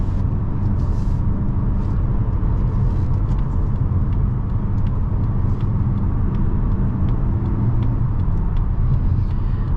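A 2022 Mazda CX-50 with a 2.5 engine drives along, heard from inside the cabin. The engine drone is deep and steady, with low road rumble throughout and no talking.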